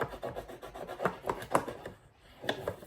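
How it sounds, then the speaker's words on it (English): A bone folder rubs firmly over glued paper to press the layers together, giving a run of soft, dry scraping strokes in an uneven rhythm, close up and moderately quiet, with no voices. "use your bone folder. Get in there and rub it."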